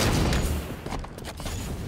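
Sniper rifle fire in Halo 5 Guardians during a free-for-all match, a loud booming shot at the start followed by rumbling decay and further crackling gunfire, brief and close.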